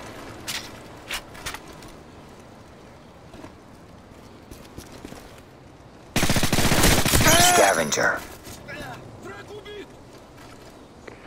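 A sentry gun firing in Call of Duty MW3 on the Seatown map: a loud two-second burst of rapid automatic fire, with scattered quieter shots before and after and a voice speaking nearby.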